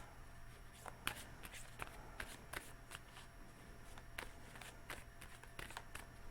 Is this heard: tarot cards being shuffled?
yes